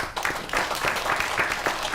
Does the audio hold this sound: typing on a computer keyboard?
no